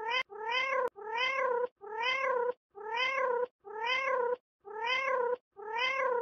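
A video game cat meows over and over, each loud, clear meow lasting about half a second and separated by short gaps, with occasional click sounds in between.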